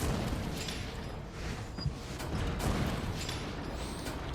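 A cannon fires in the video game Chicago Sweeper, its heavy booms repeating amid a dense, continuous wash of battle noise at moderate level, with no talk.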